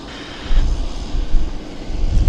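A Cargojet cargo plane taxiing at Vancouver Airport after landing gives a steady distant engine rumble mixed with wind noise.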